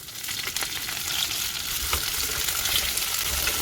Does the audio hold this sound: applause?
no